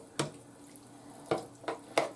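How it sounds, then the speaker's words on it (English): A thick hamburger and bean mixture with ketchup and mustard drops into a casserole dish in a few separate wet plops and scrapes, close and fairly quiet. "Then you pour everything into the casserole dish."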